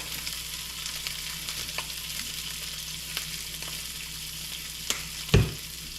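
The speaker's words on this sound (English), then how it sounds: "we'll let that cook until we start seeing white spots in the trout" Trout frying in a pan outdoors, a constant close sizzle and hiss with a few soft ticks and one sharp clunk near the end.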